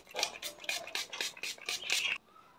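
Ronzille Fix Matte makeup setting spray being pumped in a quick series of about eight short, hissy bursts, evenly spaced and fairly close, then stopping abruptly into near silence.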